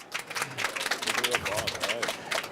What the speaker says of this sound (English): Can you please welcome Luke Charington with a big round of Igloo applause?